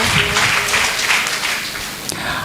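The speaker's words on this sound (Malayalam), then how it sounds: "നല്ലൊരു കയ്യടി കൊടുക്കുക എല്ലാവരും" An audience at a school SSLC award ceremony gives loud, sustained clapping that fills the hall, tapering slightly toward the end, with faint voices underneath.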